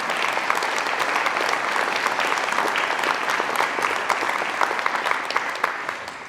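An audience at a school parent meeting claps for over six seconds, a dense, even patter of many hands that stays loud throughout and eases slightly at the end.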